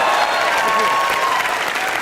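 Loud studio audience applause fills a comedy talk show set, a dense steady roar of clapping with crowd noise throughout.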